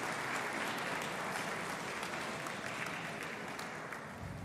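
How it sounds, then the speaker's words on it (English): At an engineering awards ceremony, an audience gives shortlisted candidates a dense, even round of applause that sounds faint and distant. "Can we give all the shortlisted candidates a round of applause?"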